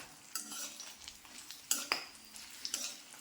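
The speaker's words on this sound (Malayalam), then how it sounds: "വറ്റൽമുളക് ഇങ്ങനെ വറുത്തെടുക്കാം" Dried red chillies fry in hot oil with a soft steady sizzle, broken by a few sharp scrapes and clinks of a stirring spoon against the pan, close and fairly quiet, with no talking.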